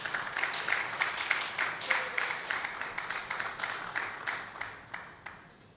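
Audience at a safety stakeholders' conference claps for an honoured legislator, a modest room of hands beating in a fairly steady rhythm that gradually thins out and fades.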